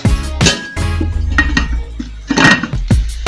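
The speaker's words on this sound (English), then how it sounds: "Cover it with a lid." A metal lid clanks onto a large sufuria cooking pot holding a chocolate cake to bake without an oven, giving several close, bright clinks and rattles as it is set in place.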